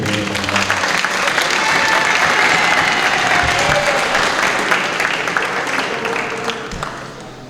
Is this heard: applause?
yes